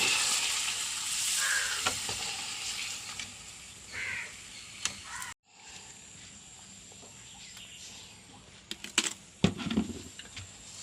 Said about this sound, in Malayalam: എണ്ണ ചൂടായി പപ്പടം വറുക്കാം